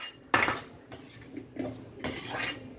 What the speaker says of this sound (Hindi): अब इसको घी डाल के भून रहे हैं।